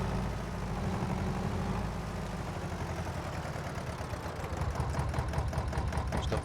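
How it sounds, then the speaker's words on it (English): A low-horsepower classic tractor in Farming Simulator 22 idles with a steady chugging engine note, the rhythmic knocking pulses growing more distinct and slightly louder in the latter half, heard alone and up close. "It's got that classic engine sound to it. You can hear the engine."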